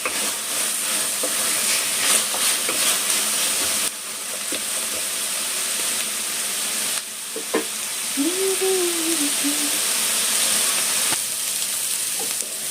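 Chopped onions frying in a pan for paneer kurma, a steady broadband sizzle with faint stirring scrapes throughout, close and continuous, one brief tonal squeak midway, no talking.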